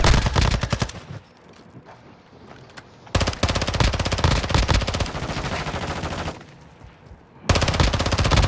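Automatic gunfire in Call of Duty Modern Warfare II DMZ mode, loud sustained bursts of rapid shots broken by two quieter pauses before the firing resumes.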